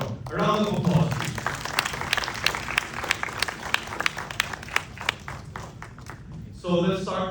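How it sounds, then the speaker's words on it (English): An audience welcoming two doctors onto a stage at a film event with a round of applause, a steady wash of clapping with sharp individual claps standing out, and a voice briefly heard at the start and end. "A round of applause"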